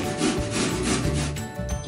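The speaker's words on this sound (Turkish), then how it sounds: "Şimdi kerevizi rendeliyorum." Celery grated on the fine side of a grater, a rapid series of dry, rasping scrapes in a quick repeating rhythm, close and fairly loud with no talking.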